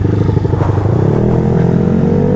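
A Honda Vario 215cc four-valve scooter engine revs up close and loud, its buzzing drone climbing in pitch as it accelerates, with a little clatter mixed in.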